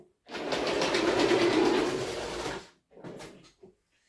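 A Tri-ang Transcontinental model train locomotive runs in reverse with a steady, fairly loud mechanical whirr for about two seconds, then stops, followed by a couple of short, fainter rattles.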